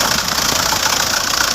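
Fuso truck's turbo diesel engine idling just after starting, a close, steady knocking rumble with a rapid even pulse and no voices.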